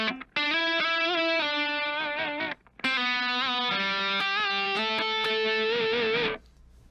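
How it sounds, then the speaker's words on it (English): A GOC Materia 3.ECO 7-string electric guitar with hot pickups plays through a heavily distorted tone, sustained chords and ringing notes loud and upfront, with a brief gap midway and a clean stop at the end. "These pickups are very hot, sound really good with any sort of distorted tone that I've put through them so far."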